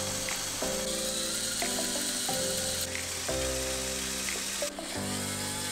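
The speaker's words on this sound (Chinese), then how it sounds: "这里我们也可以加入电机来做一下测试。" Electric motors whir steadily inside a large motorized Millennium Falcon model built from toy bricks, a loud continuous drone that shifts pitch in several stepped jumps as the drive and steering are tested, with no voices.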